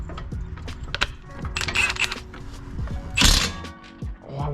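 A ratchet tightens a bolt on a car's coilover suspension, a series of short, close clicking and scraping bursts with metallic knocks and clanks, uneven in rhythm and moderately loud, with no talk.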